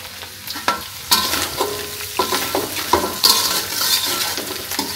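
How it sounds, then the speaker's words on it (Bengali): Potatoes fry in a pan for a banana-flower and poppy-seed dish, sizzling steadily while a utensil scrapes and stirs in irregular bursts, close by with no talking. "আলুগুলোকে একটু ভাজা ভাজা করে নিলাম।"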